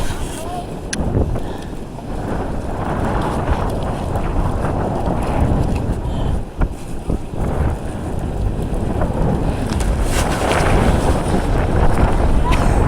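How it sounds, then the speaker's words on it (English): Strong gusting wind roars steadily into the microphone outdoors ahead of a blizzard, a dense rushing buffet with a few sharp knocks throughout. "Comes another gust."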